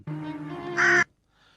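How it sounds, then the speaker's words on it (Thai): Crows harassing other birds for shellfish, with a strong harsh caw holding about a second and rising at its end, then breaking off into near silence. "พวกอีกา มันขู่และก่อกวน"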